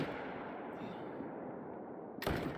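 A single sharp rifle shot cracks loud and close near the end, fired at a buffalo while hunting in Nepal in theHunter Call of the Wild, after a stretch of steady outdoor ambience.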